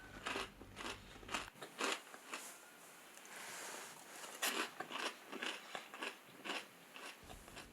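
Crispy fried meatballs in a sour soup being eaten up close: a string of crunchy bites and chewing with slurps in between, irregular and fairly quiet, no speech.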